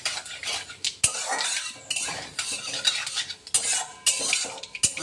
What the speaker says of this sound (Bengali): কালো জিরেটাকে একটু নেড়ে নেব